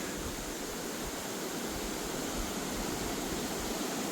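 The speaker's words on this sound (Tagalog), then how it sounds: "Ang dinig dito mga kateki, yung agos ng ilog." A river flows steadily in Rizal like a small brook, a constant broadband rush of moving water with no breaks, heard alone without voices.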